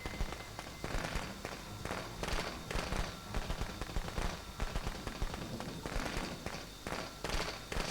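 Fireworks crackle and pop in dense bursts all the way through a Friday the 13th: The Game match, with rapid loud snaps over a steady noisy bed.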